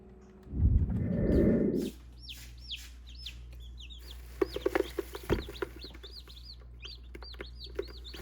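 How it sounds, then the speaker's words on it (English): Newly hatched baby chicks peep in a run of high, repeated chirps through most of the stretch, fairly close, over a steady low hum, with a brief louder rustle or handling noise near the start. "So I have 4 chicks in this bowl, right?"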